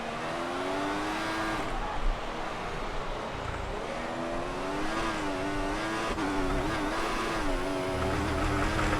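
An F1 car at full throttle in F1 2014, its engine wailing in a high, rising and falling tone with gear-shift dips, loud and close and continuous with a faint tire squeal underneath.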